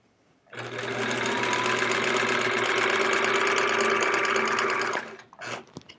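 A sewing machine stitches the binding onto a sampler quilt in one steady burst of rapid mechanical whirring. It runs for several seconds, then stops, and a few quieter rustles follow.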